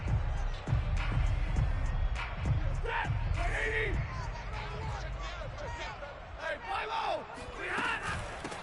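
A football stadium crowd roars and cheers during an opening drive, a dense, sustained wash of noise with occasional yells and thuds, under a commentator speaking throughout.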